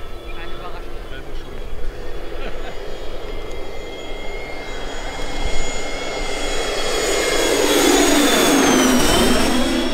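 A giant RC Airbus A350 XWB model jet comes in to land, its turbine whine building and rising in pitch as it nears, with voices talking over the engine noise.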